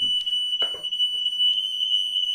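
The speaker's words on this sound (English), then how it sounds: "And then set the alarm off." A smoke alarm shrills in a steady high tone throughout while falafels are cooking, with a few brief clattering kitchen noises early on.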